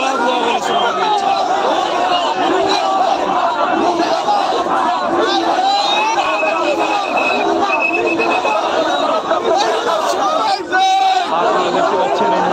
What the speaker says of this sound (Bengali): কিন্তু ভুয়া ভুয়া বলে স্লোগান দিচ্ছে